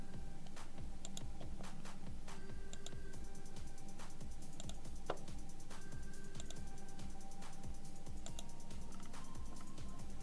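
Computer mouse and keyboard clicks while drafting a 2D building cross section on screen, a brisk, irregular run of sharp nearby clicks with no voices.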